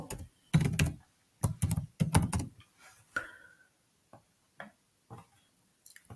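Bursts of keyboard typing, quick clusters of key clacks followed by scattered single taps, close by in a quiet room.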